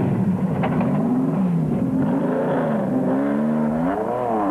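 A Raceco race car engine roars loud and close at the Caledon 400 in 1993, its pitch rising and falling as it revs through gear changes in a continuous drone.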